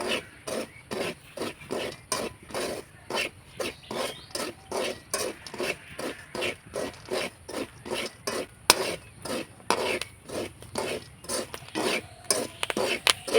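Chickpeas are dry-roasted without oil, sand or chemicals and stirred in a hot pan. Steady, rhythmic scraping strokes repeat up close about twice a second, with no talking.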